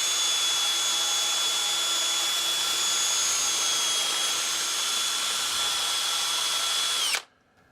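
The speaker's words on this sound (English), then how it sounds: "now I'm going to have to drill into this" A power drill whines at a steady high pitch for about seven seconds while drilling into a PING fairway golf club head, close and loud, then abruptly stops.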